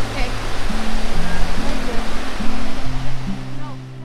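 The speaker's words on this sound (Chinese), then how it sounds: "优胜美地瀑布位于加州的内华达山脉，是北美洲落差最大的瀑布" Yosemite Falls in California's Sierra Nevada, the tallest waterfall in North America, roars with a steady, dense wash of water noise on a windy day, with low humming tones running underneath throughout.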